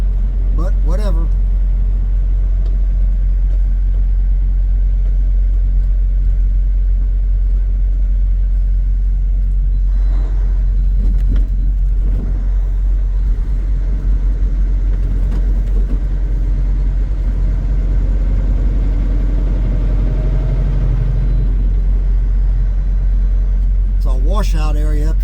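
A truck engine rumbling low and constant while driving through a hard right turn near a curb, the deep drone continuous and close, with a voice talking at times.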